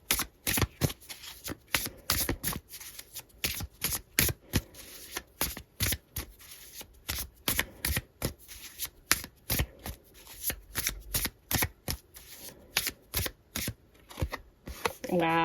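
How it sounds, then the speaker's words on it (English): Tarot cards shuffled by hand in a steady, rapid run of crisp riffling flutters lasting the whole stretch, close and fairly loud, with no talking over it. "I'm going to pull some tarot cards for you about this person and this connection"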